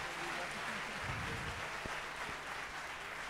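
Audience applause after a duet performance at a concert event, steady clapping from a crowd, moderately distant, with a presenter's voice over it.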